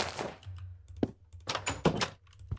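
Wooden doors being placed and opened in Minecraft, several short hollow thunks and clicks in irregular succession, close and fairly quiet.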